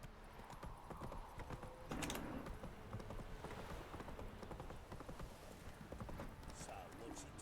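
Hooves of the horse Roach clip-clop at a steady walking pace in The Witcher 3 game, close and continuous over faint ambient background, with a brief whinny-like sound; no speech.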